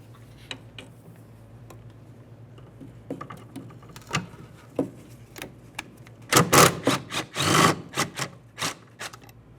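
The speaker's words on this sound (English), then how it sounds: "Let's remove that bolt and slide the bracket out of our way." A 13mm bolt comes off a metal bracket on a 2012-2018 Nissan Altima near the fuel tank straps, with a steady run of close ratchet ticks that swell into louder, denser clicking toward the end.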